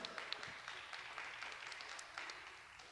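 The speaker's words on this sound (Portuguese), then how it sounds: "Vamos aplaudir o Ricardo, gente." A small church gathering claps for Ricardo, faint, scattered applause lasting a few seconds at low level.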